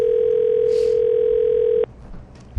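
A telephone ringback tone sounds as an outgoing call rings, one steady, continuous electronic tone held for almost two seconds before it stops abruptly, leaving faint room noise.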